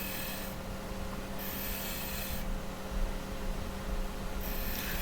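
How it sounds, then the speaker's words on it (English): A bowl gouge cuts end-grain wood on a lathe while turning a rolling pin, making a steady, continuous rasping scrape that stays close and even throughout with no voices. "Now I'm using the bowl gouge again to cut so that I don't have any issues with the end grain of the wood"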